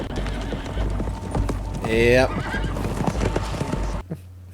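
A horse from the film Prey (2022) whinnies loudly over steady clip-clopping hooves, with a brief spoken word near the end.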